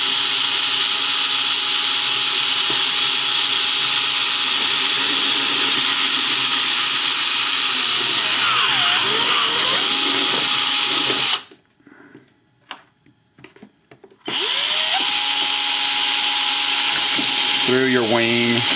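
Small power drill boring through a model helicopter wing and saddle with a 1.5mm screw hole, a loud sustained whine that cuts out abruptly, leaving near silence, then resumes briefly with handling clatter.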